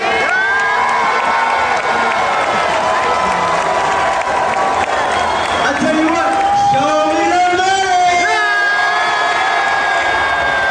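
A loud crowd cheers, whoops and applauds warmly throughout, a dense, sustained roar with shouting voices rising and falling.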